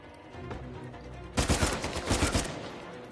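Gunfire in Uncharted 4: A Thief's End on Crushing difficulty: a loud, close burst of rapid shots and impacts that runs for about a second before trailing into quieter game ambience.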